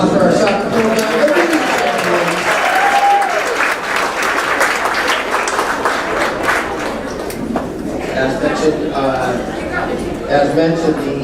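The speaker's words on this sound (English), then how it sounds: "I want another round of applause for our soccer program" A crowd at a high school sports banquet applauds loudly and steadily for a soccer program, with cheers and a few shouts mixed into the clapping throughout.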